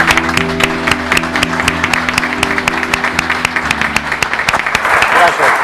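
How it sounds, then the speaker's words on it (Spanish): An audience claps steadily in a dense, sustained round of applause that welcomes a speaker at a talk on the oil industry, the sound full and close throughout. "le voy a pedir un aplauso para darle la bienvenida"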